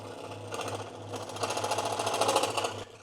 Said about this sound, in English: Now another option, I guess, is a scroll saw, which I virtually never use